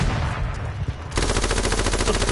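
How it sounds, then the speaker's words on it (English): Rapid automatic gunfire in a multiplayer squad shooter game, a dense machine-gun burst that kicks in abruptly and rattles loudly to the end after a short stretch of quieter background. "Who's shooting us?"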